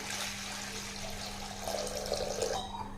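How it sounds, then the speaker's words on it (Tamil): Water is poured into a vessel of washed sago for payasam, a steady close splashing and trickling stream with a faint electrical hum underneath and no talking. "இதில் ஒரு ரெண்டு டம்ளர் தண்ணி சேர்த்திக்கலாம்"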